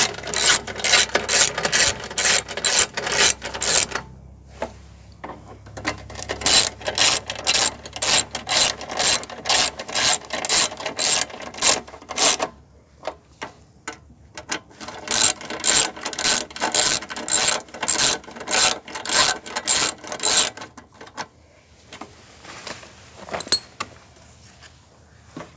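Rapid metallic ratchet clicking from tightening bolts on a Briggs and Stratton lawnmower, loud and close, in several bursts of quick even clicks separated by short pauses.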